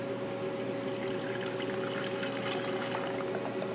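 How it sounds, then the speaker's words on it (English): Distilled water pours steadily into an evaporating dish in a continuous, close, even splashing flow with no voices. "Observation involves filling an evaporating dish half full with distilled water"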